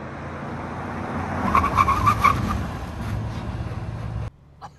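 An Audi RS6 brakes hard from speed, its tyres squealing and skidding loudly for a few seconds before the car stops abruptly and the noise cuts away.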